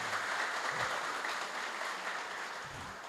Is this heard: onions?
no